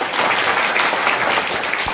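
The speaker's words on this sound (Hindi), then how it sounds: "ताली बजाइए।" Children in a Class 6 classroom clap together in a steady, dense burst of applause lasting about two seconds, loud and close, after a bulb lights during a science activity.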